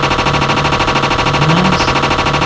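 Rapid automatic gunfire from a weapon in a zombie video game hammers out in a dense, continuous burst, loud and close, with no talking.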